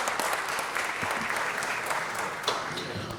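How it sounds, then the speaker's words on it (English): Steady crowd applause welcoming a visiting youth civic group during a regular city council meeting at City Hall; even, continuous clapping filling the room, fairly faint, with no talking. "So give them a round of applause and welcome the Junior Statesmen of America."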